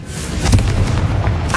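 A Confringo spell in the Hogwarts Legacy video game goes off as a loud, short fiery explosion, a dense booming burst with crackling tails and a smaller pop near the end, with no speech.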